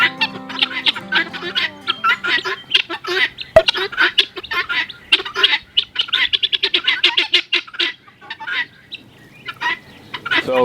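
Free range guinea fowl calling outdoors, a loud, close chorus of rapid, harsh repeated two-note cries and chattering clucks in overlapping bursts, with occasional short pauses.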